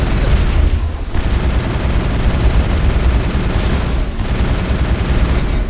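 Automated turrets firing in Mass Effect, a dense, sustained barrage of rapid shots with booming low end, loud and close throughout, briefly dipping twice before resuming.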